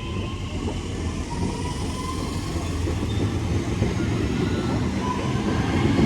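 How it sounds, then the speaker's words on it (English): A West Midlands Railway train bound for Bromsgrove via Birmingham New Street on the Cross City Line pulls away, its rumble and rolling wheel noise building into a steady, moderately loud roar over several seconds. "There goes the 1322 West Midlands Railway service to Bromsgrove via Birmingham New Street"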